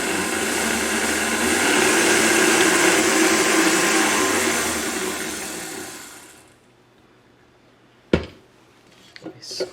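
An electric mixer beats brownie batter with brown and granulated sugar, a steady loud motor whir that winds down to silence, followed by a few clattering knocks and scrapes against the bowl.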